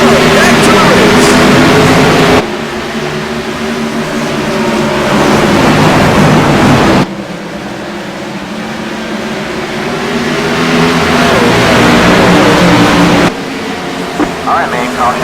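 Race cars roar at a green-flag restart on the Iowa Speedway oval during an AMS Wounded Warrior Cup Series event, a loud continuous engine drone that swells and drops in sections as the pack passes.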